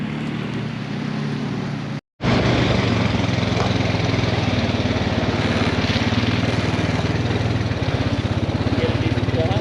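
A mini bike engine runs loud and close with a buzzing, steady small-engine drone, briefly cutting out for a moment before roaring on again, with a voice talking over it.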